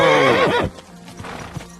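A horse in Kingdom Come: Deliverance II lets out a loud, close whinny with falling pitch lasting over half a second, followed by quieter hoof clip-clops and low ambient noise.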